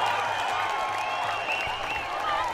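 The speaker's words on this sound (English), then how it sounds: "The crowd have gone crazy here at Navy" Rugby crowd at a Navy SC home match roaring and cheering in a sustained, dense wash of noise, with scattered applause mixed in throughout.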